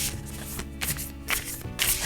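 A tarot deck of decent cardstock gets a quick hand shuffle, with several brisk riffling bursts in close succession, close and clear.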